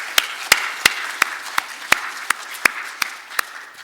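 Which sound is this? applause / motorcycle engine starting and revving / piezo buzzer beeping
applause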